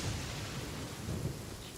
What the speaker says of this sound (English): Also, in a thunderstorm.